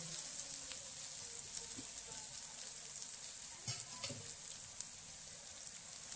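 A soft, steady sizzle of shevla vegetable frying in spiced oil, with a few faint clinks of stirring.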